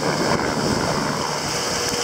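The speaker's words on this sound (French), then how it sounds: "Beaucoup de vagues, très impressionnant." Ocean waves rush and wash around a racing sailboat off Tasmania in a constant, loud broadband roar mixed with wind noise, close and unbroken.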